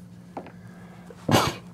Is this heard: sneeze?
yes